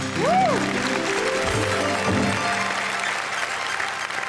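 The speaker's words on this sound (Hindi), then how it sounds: "ये आपके लिए, पूरे देश के लिए घनघोर तालियां बजाने का वक्त है" Loud, sustained applause from a stage-show audience fills the whole stretch, a steady dense roar of clapping with musical tones and a brief vocal sweep near the start.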